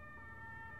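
A siren wails from a police car driving along a city street, steady and faint in the distance over low traffic rumble, with no voices present.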